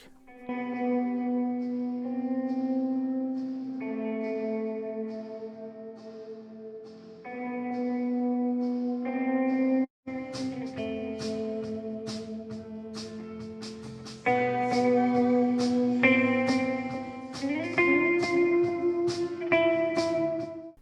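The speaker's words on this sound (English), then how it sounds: "let's actually have a listen to just the reverb. You can hear what that sounds like." Music with layered tones drenched in reverb, each note trailing into a long, washy echo tail; steady and moderately loud, with no talking.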